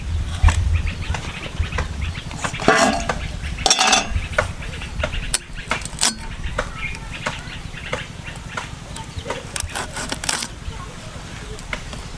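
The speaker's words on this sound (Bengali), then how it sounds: "এখন আমি মাছটা প্রথমে কেটে নেবো" A knife cuts tuna fish on a kitchen surface, giving close knocks, scrapes and metallic clinks at irregular intervals, with a voice at times.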